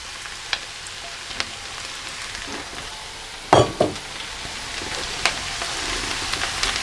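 Mushrooms tipped into a pan of softened onions fry at medium-low heat, giving a steady, soft sizzle with a few clattering stirs and knocks against the pan close by.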